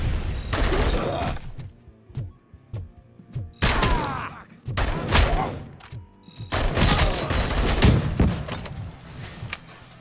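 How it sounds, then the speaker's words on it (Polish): Submachine gun fire in RoboCop: Rogue City, with bursts of shots and heavy thuds repeating across the scene alongside impacts, loud and close with short pauses between volleys. "Całkiem spore obrażenia ten pistolet maszynowy zadaje"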